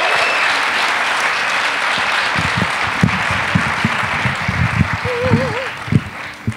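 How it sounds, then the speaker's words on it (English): An Ignite Denver audience applauds a speaker in a steady wash of clapping that carries on throughout, while voices talk over it near the end. "can I please have a large round of applause for Miss Ellen?"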